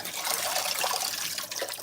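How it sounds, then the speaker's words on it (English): Water pours and splashes out of a tray being dumped, a continuous bright rushing trickle lasting a couple of seconds, fairly close and alone. "I gotta dump this thing. This thing fills up with water."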